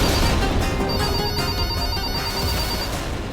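A home landline telephone rings indoors, its electronic tone sounding steadily for a few seconds over a busy, noisy background.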